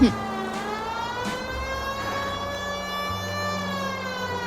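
A police siren wails steadily in the L.A. Noire video game, a sustained rising and falling tone with a vehicle engine rumbling underneath.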